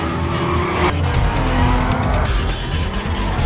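Cars skidding and squealing their tires during a street racing chase scene, loud engine roar layered with screeching rubber and a sharp swell partway through, with no talking.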